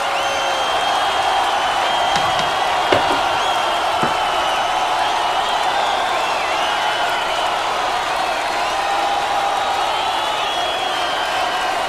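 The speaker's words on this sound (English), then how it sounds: "I'll let the applause die out first." A large concert crowd at a live show keeps up a steady, distant roar of applause and cheering, with occasional whistles and whoops riding over the wash.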